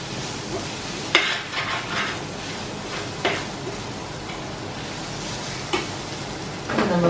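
Chopped green chilies stirred and fried in a pan for vegetable biriyani, a soft steady sizzle broken by occasional spoon scrapes and clinks against the pot.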